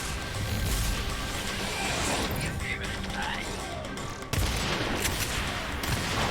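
Rapid SMG bursts in the Agents of Mayhem shooter, dense crackling fire mixed with game clatter and explosions, loud and continuous with a brief drop near the middle, under a speaking voice.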